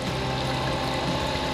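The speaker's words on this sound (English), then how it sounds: "Oh man, listen to that beautiful pour." Fuel gushes steadily into a tractor's tank from a transfer setup rather than a 5-gallon can, a loud, continuous close-up rush of pouring liquid without a break.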